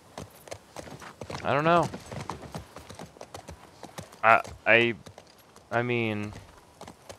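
Horse hooves clip-clop in a steady walking rhythm in The Last of Us Part 2 on PlayStation 5, running quietly beneath someone talking.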